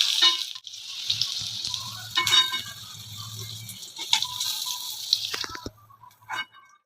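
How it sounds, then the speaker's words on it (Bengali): Pointed gourd (potol) frying in hot oil in a kadai, a steady sizzle and crackle with brief clatters as the pieces are turned, no voices. "এইভাবে পটলগুলোকে আমরা উল্টে পাল্টে ভেজে নেব।"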